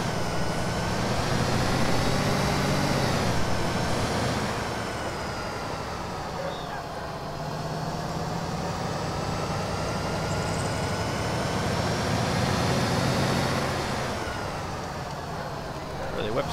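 Concrete mixer truck driving in the Construction Simulator 2 video game, a steady loud engine drone with shifting pitch as it accelerates and eases off, running continuously throughout, with someone talking over it.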